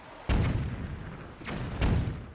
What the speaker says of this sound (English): His cannon makes quick work of the front gate.